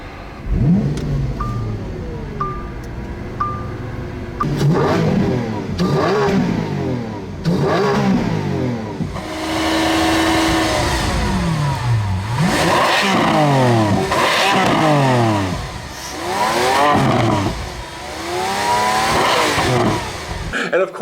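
A Lamborghini Aventador engine revs repeatedly, rising and falling in sharp sweeps, loud and close, with a few brief chimes early on and a voice briefly audible.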